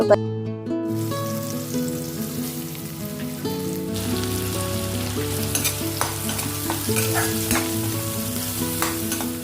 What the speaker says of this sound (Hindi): जो तेल बचा हुआ था पनीर फ्राई करने के बाद उसी तेल में हींग, प्याज, हरी मिर्च को भून लिया।